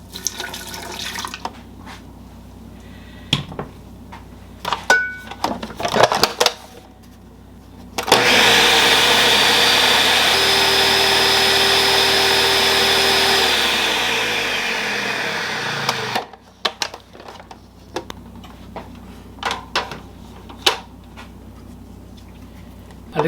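A blender whirs loudly for about eight seconds, a steady high-pitched motor whine churning coffee and hot milk, with quieter clinks and handling sounds before and after.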